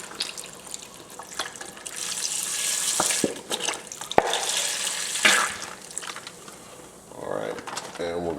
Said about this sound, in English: now we're going to add in 1 whole container of beef stock